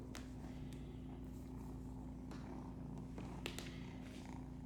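A kitten purrs steadily and continuously at close range, with a low even rumble throughout and a few faint taps or clicks over it.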